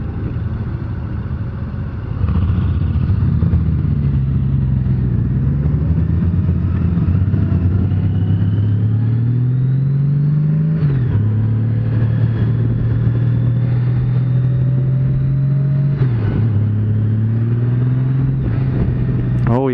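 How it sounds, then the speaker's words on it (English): A 2018 Honda Goldwing motorcycle engine pulls steadily and loud throughout, its tone rising as the bike accelerates with a brief shift partway through, close to the rider under wind noise. "gave her a little twitch and the whole bike took off"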